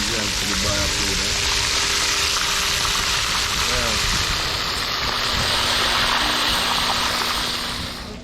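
Loud, continuous sizzling and crackling of barracuda frying in hot oil for a Jamaican dish, steady throughout, with a faint low hum and muffled voices underneath.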